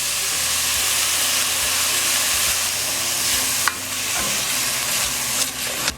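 Minced beef frying with spaghetti sauce in a pan over medium heat, a loud continuous sizzle and hiss with occasional scraping stirs, no talking.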